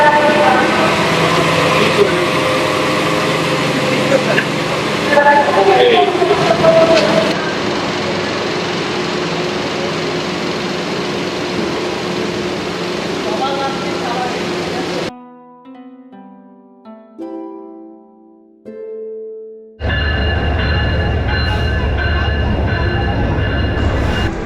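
A passenger train departs Dhaka for Sylhet with a loud, close rumble of engine and wheels. A short quieter stretch of tonal sounds breaks in before the heavy rolling noise resumes.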